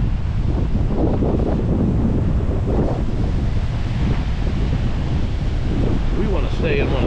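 Strong wind buffeting the microphone on a lakeside walking trail at Geneva on the Lake, a loud, constant low roar and rumble throughout with a faint voice buried underneath.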